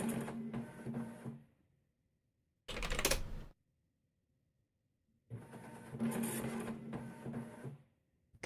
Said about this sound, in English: Come on, printer.